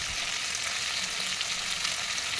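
Chicken meat frying in a kadai, a dense, even sizzle and crackle of hot oil holding steady throughout, close and moderately loud with no voices.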